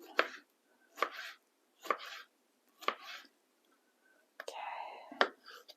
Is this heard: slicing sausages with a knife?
yes